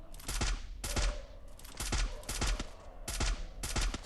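Gunfire in a battle royale video game, with rapid bursts of shots repeating in quick clusters, each crack trailing off into a short echo, heard loud and close without talk.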